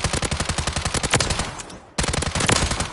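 Rapid automatic gunfire from a no-recoil weapon in Warzone 3 rattles out in loud, evenly spaced shots, with one long burst, a brief gap just under two seconds in, then another sustained burst.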